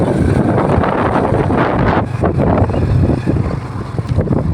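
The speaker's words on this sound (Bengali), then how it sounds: "কি সুন্দর হাওয়া" Wind blows across open village countryside near jute fields, a loud continuous rumbling gust buffeting the microphone with no voices.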